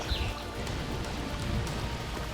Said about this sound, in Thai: อากาศเย็นฝนตกเล็กน้อย